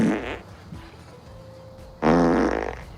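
A fart in a movie scene from Hitman's Bodyguard: a loud raspy blast opens, a quieter sputter and a thin drawn-out squeak follow, then another long loud rasp.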